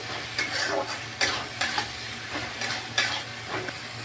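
Spice masala with slit green chillies stir-fried in a pan, a close, steady sizzle punctuated by repeated scraping strokes and taps of a spatula against the pan, with no talking.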